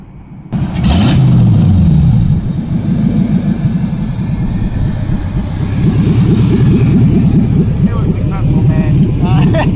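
An LS-swapped Chevrolet Colorado engine rumbles and revs loudly inside the truck, bogging as it cuts out near 2000 RPM, with people talking over the steady low drone.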